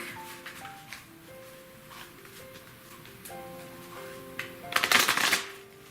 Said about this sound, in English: So I'm just going to shuffle this deck up quick.